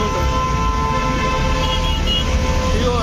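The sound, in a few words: auto rickshaws honking horns in traffic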